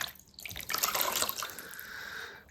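Water poured over a North Face Hedgehog Futurelight membrane shoe, a soft close splash and trickle running for a couple of seconds, faint and with no voices.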